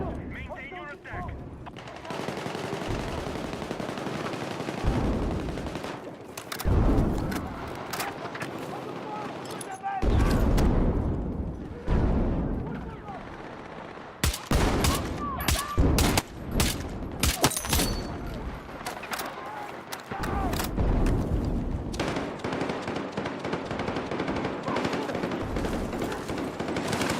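Rapid bursts of SVK designated marksman rifle fire in an online shooter game ring out repeatedly, loud and close, in clustered volleys with short gaps, mixed with other gunfire and game effects.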